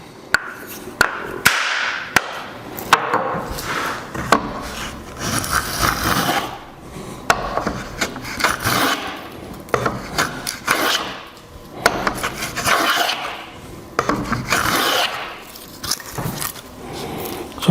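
A wooden hand plane shaves wood, its depth adjusted for lighter or heavier shavings, giving repeated close, crisp scraping strokes with sharp knocks and taps between passes and no talk.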